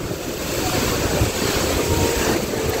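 Rough, swollen sea surging and breaking onto the shore at Old Digha beach, a continuous loud roar of churning waves with wind buffeting the microphone, no voices.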